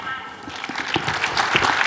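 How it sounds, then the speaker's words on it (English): Audience applause for conference panelists at a political panel event, a dense spread of clapping filling the short stretch at steady moderate loudness, with some voices mixed in. "Another round of applause for our panelists."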